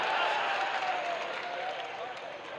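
An audience at a Hindi poetry recital claps in a broad, steady wash of applause that slowly tapers, with voices faintly mixed in.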